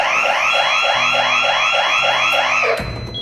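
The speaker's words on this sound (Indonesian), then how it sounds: "disambut oleh meriah oleh suara alarm yang bisa mati dan hidup sendiri" An old house alarm that switches itself on and off wails in fast, rising repeated sweeps, loud and close, then cuts off abruptly near the end.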